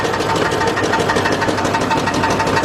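Rapid mechanical knocking from the 5.3 V8 engine of a 2006 GMC Envoy XL Denali running steadily, a loud, close, continuous rattling tick with no talk.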